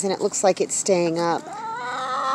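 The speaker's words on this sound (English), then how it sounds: "Chickens are all in the yard." Chickens clucking in a yard, a few short calls near the start mixed with someone talking, followed by a sustained higher crowing-like call.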